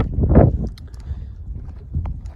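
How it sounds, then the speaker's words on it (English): Strong wind buffets the microphone out on the desert geode beds in Utah, a loud rumbling gust at the start followed by steadier, lower blustering. "If it sounds like wind, well, that's the sound of wind."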